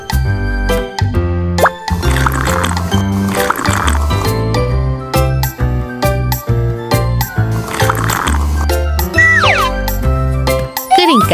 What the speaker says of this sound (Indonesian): Buang air yang kotor